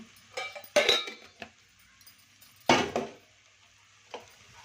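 A spoon stirs sambar powder into a hot cooking pot for fish curry, giving a few close metallic clinks and scrapes in brief clusters separated by quiet pauses.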